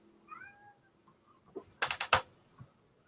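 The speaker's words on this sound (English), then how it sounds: "Stop meowing." A cat in heat gives a short, faint meow, then a cluster of sharp, loud clicks and taps follows close by in a quiet room.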